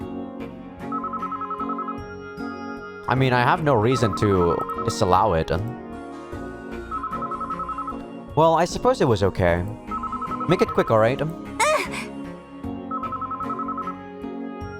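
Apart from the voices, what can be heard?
telephone ringing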